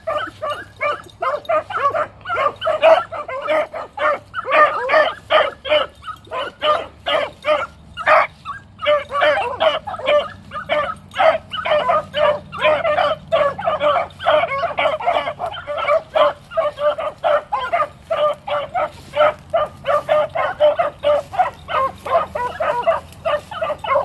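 Several puppies in training bark and yip continuously, a dense, loud run of sharp, high-pitched calls overlapping one another close by, with barely a pause throughout.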